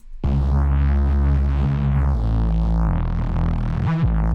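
A reese bass synth run through two Camel Crushers, OTT and a Filter Freak notch filter hums heavy and distorted, its moving notch giving a swirling phased sweep as the note changes pitch, alone and loud.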